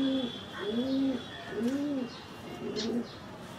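A male pigeon kept at a home loft coos in about four rolling, rising-and-falling calls, close and clear over a faint steady background hum.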